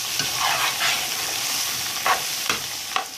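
Carrot halwa with khoya being stirred and mashed in a pan, a steady frying sizzle broken by several scraping, squishing strokes of the spoon, close and fairly loud, with no voices.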